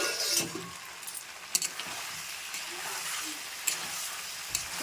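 Potatoes hit a hot pan with whole garlic and fry with a steady crackling sizzle, punctuated by sharp metallic scrapes and clinks of stirring throughout.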